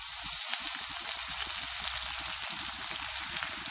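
Garlic-ginger paste and crushed green chilli frying in a pan, a dense, loud, continuous sizzle and crackle, close and steady throughout with no voices.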